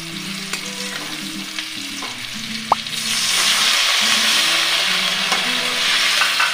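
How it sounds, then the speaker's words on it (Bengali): Fried chicken pieces for chili chicken stirred in a hot pan, a steady loud sizzle with scraping strokes of a spatula and one sharp metallic clink, the frying growing fuller and louder partway through, no voices. "এবারে আমি ফ্রাই করা চিকেনগুলো দিয়ে একটু নেড়ে নেব।"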